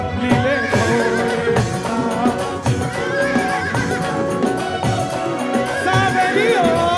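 A horse neighing over music during a devotional storytelling performance, loud and continuous, mixed with a clip-clop of hooves and a murmur of voices.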